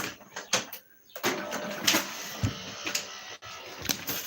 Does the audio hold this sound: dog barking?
no